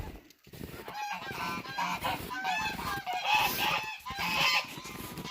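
Farm geese honking repeatedly on a cold, snowy day as they are given water, a loud, overlapping chorus of calls continuing throughout without pause.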